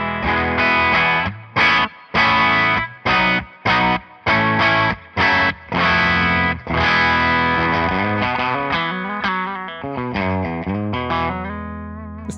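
Electric guitar through a tube amp on its clean voice position 1, playing rhythmic chopped chords with short gaps, then sustained ringing notes, loud and close with a slight edge of gain.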